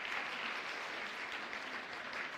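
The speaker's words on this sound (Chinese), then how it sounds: "拍手拍手拍手" Congregation clapping during a live-streamed Easter praise service, a steady, even wash of many hands applauding at a moderate distance with no talking over it.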